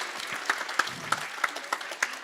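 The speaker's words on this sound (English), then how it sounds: "please give a big round of applause to all the kids for their hard work" Applause from an audience at a New Year Pushpabhisheka celebration, a steady patter of clapping with sharper accents, moderately distant and fairly quiet.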